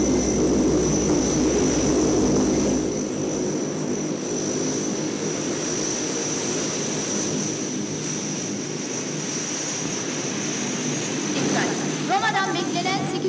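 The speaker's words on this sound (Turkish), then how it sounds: "Beklenen 807 sefer sayılı uçak alanımıza inmek" A plane arrives at an airport, heard as a loud, constant propeller-aircraft engine drone that fills the whole stretch, with voices talking underneath.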